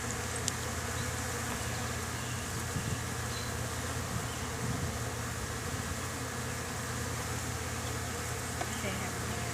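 Honeybees hum and buzz in a continuous drone from a beehive being opened for inspection, close and fairly quiet, with no voices.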